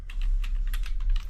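Fast, steady typing on a computer keyboard, a dense run of close key clicks over a low hum, lasting about a second.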